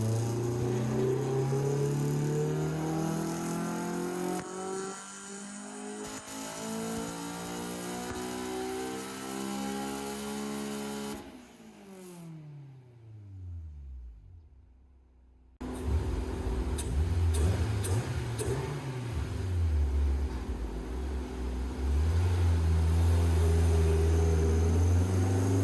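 Honda S2000 engine running power runs on a dyno at max load, a loud sustained roar with rising revs and harmonic sweeps, a brief drop to near silence midway, then the heavy engine drone returns close up.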